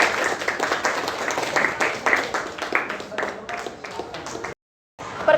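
An eighth-grade class applauds a presenting group in a classroom: dense, steady clapping from many hands lasting several seconds, then a brief silent gap before it resumes.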